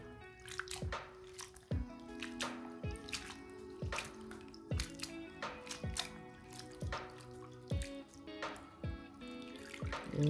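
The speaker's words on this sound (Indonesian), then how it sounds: "Buah sawu yang sudah diiris semua dicuci sambil diremas" Sliced sapodilla being washed and squeezed by hand in water while making Acehnese rujak pliek u: close, wet squelching and dripping in a steady repeated rhythm, with no talking.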